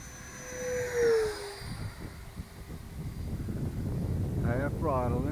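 A FreeWing Stinger 90 RC jet with a 10S electric ducted fan flies past at half throttle, a rising then fading whine over steady outdoor wind noise, with a louder nearby hum near the end.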